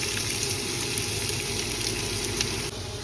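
Onions fry in hot oil for Chittagong-style shutki bhorta with a loud, dense, continuous sizzle that carries on evenly throughout and has no talk over it.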